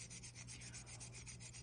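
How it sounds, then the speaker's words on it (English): Steady rhythmic rubbing of sandpaper across a polymer clay piece, close and even, with quick repeated strokes and no voices. "A lot of times I'll do intermediate kind of sanding."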